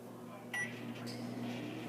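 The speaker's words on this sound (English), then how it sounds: "all we have to do is microwave for 1 minute. So I'm going to hit the express cook," Microwave oven running on its express cook setting to bake a brownie in a mug, a steady low hum with a faint beep-like chirp near the start, heard close and alone.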